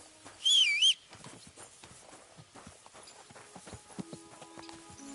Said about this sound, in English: Get on my horse and go